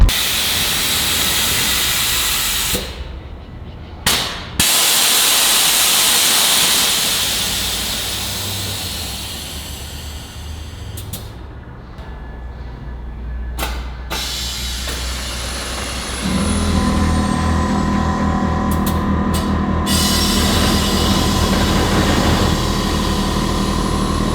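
Kelderman air suspension on a 2020 Ram 3500 Mega Cab cycling up and down, a loud steady hiss of escaping air broken by brief pauses and shifts in pitch, ending in a lower, rougher rush, with no voices.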